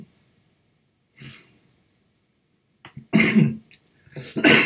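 A few coughs and throat-clearing sounds, quiet at first and then louder and rougher toward the end, with no speech.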